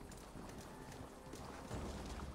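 Hooves clip-clop softly at a steady rhythm as a horse moves through the Assassin's Creed Valhalla game world, faint and partly masked by wind-like background noise.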